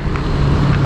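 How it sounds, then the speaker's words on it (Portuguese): A car passes near a rider on an electric mountain bike (Oggi Potenza Pro), a steady engine and road rumble with wind noise running throughout, loud and close for under a second. "Cuidado com o carro aí, Lucão."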